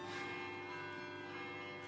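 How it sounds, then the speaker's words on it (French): Carillon bells of Tournai ring out in the distance, a sustained, layered metallic chime with lingering overtones under a faint outdoor hush. "les carillons de Tournai se mettent à teinter"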